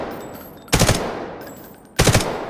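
An M4A1 rifle in the video game Delta Force fires two loud, close full-auto bursts, each roughly half a second of rapid shots, separated by a pause filled with steady ambient game noise.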